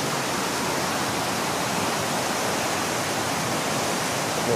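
A swollen river at a campsite in Lata Rambong, Perak, rushes loudly in a dense, unbroken roar of water that stays steady throughout, with no voices.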